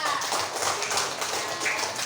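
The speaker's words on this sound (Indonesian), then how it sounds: "tepuk tangan buat kita semua" A class of schoolchildren clapping their hands together in a classroom, quick dense clapping heard throughout with some voices mixed in.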